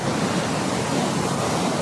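Big ocean waves at Makapu'u Beach on Oahu, Hawaii, roll in as a steady, dense roar of surf, loud and continuous throughout with no voices heard.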